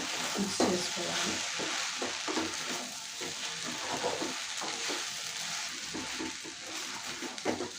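Okra frying in a pan with coconut powder stirred through it, a steady close sizzle with scraping stirring strokes running throughout.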